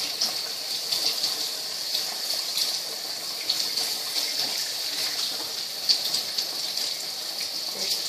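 Steady running water rinses a butchered rabbit carcass, a continuous bright splashing gush with a constant hiss, unbroken for several seconds and no voices.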